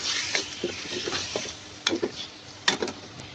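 Onion, tomato and ginger-garlic paste being stirred in a pot for a beef and apple gourd curry, with a steady sizzling fry under scraping spoon strokes and a couple of sharper knocks against the pot.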